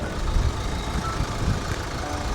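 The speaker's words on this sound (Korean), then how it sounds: "그 엔진 소리 진짜 기가 막히네" A Kia Sportage R SUV engine idles close by with a steady low rumble, continuous and unchanging for the whole short stretch.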